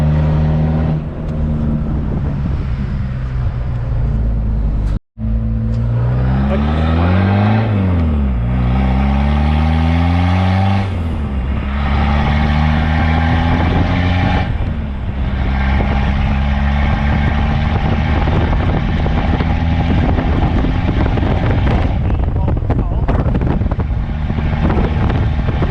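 Suzuki Vitara fitted with a swapped 2.1 turbo-diesel engine driving on the road, a loud continuous engine drone rising and falling through gear changes with strong wind buffeting, a brief cut near five seconds.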